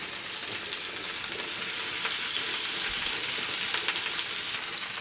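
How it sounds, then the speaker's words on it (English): Food sizzles steadily and close up on a hot grill, a dense crackling hiss with scattered pops and no voices. "That's a good sound. Nice sizzle."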